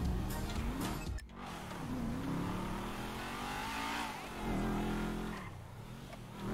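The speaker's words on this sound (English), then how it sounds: "It's got a pretty crazy exhaust note, man." Car exhaust revving in Grand Theft Auto 5, a loud, sustained engine roar that rises and falls through several throttle swells with a brief dip early on, filling the whole stretch without talk.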